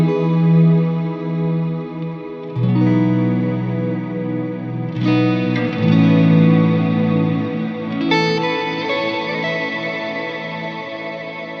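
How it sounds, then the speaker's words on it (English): An electric guitar runs through a stereo reverb pedal with modulation, playing sustained chords that change every few seconds and leave long, shimmering, wavering tails. The playing is loud and close, with no voices. "So this is an example of using a stereo reverb."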